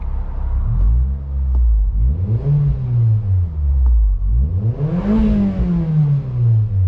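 Mazda MX5 engine on fresh spark plugs revs up in three rising and falling sweeps, each climbing in pitch then settling back, close and loud with no talking.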